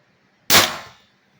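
A single sharp airsoft shot from an M17 rifle with a Chinese bolt spring, run on HPA from a Ninja tank at 1100 psi, close and loud, with a quick decaying tail and no voice.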